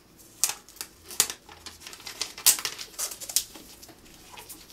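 An iPad taken out of its thin plastic wrapper, with crinkly rustles and crackles in uneven bursts, close and fairly quiet, no voices.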